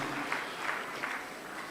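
Short spell of applause at a medical talk on pregnancy and lactation nutrition, a few distinct claps over a steady room wash, moderately loud and close.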